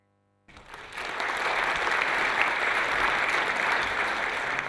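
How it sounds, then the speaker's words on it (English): Conference audience at a Lambda Days 2018 talk applauding themselves, breaking out suddenly after a brief silence into a thick, sustained roar of many hands clapping that holds steady to the end. "I want you to give yourselves a round of applause for leading in this growing community"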